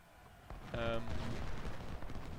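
Musket volleys and booming artillery fire from Ultimate General: Civil War rumble in the distance, steady and fairly faint, with a spoken voice over the battle noise.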